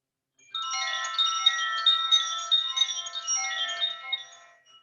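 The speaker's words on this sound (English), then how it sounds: "This is our earth wind chime." An earth wind chime rings with bright, overlapping metallic tones that swell in after a brief silence and shimmer and slowly decay over several seconds, clear and alone with no voices.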